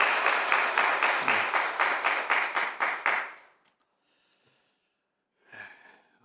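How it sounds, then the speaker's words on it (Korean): Church congregation applauding after a praise song at a Sunday worship service, rhythmic group clapping for about three seconds that fades into near silence, then a brief soft sound near the end. "우리 박수로 한번 격려하겠습니다"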